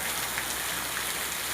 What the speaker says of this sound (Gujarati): શનિવારનો વરસાદ છે ભાઈ.